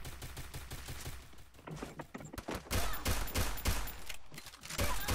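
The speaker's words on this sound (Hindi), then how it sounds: "चलो गोलियां मार दो।" Rapid bursts of game gunfire, sharp repeated shots in quick volleys with brief pauses, loud and close, with no talking.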